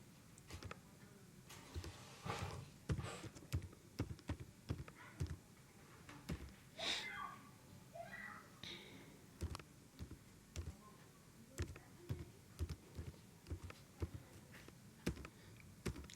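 Steady typing on a computer keyboard entering an address, a continuous run of light close key clicks at an uneven rhythm.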